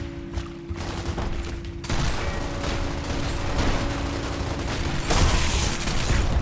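Gunfire during a Gears of War Ultimate Edition team deathmatch online match, sniper shots among a dense, continuous fusillade of game combat with mechanical clatter, loud and steady with no clear isolated shots.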